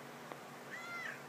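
A pet cat at a trailer gives a single soft, rising-and-falling meow near the end, faint over a quiet room hum, after a brief tap.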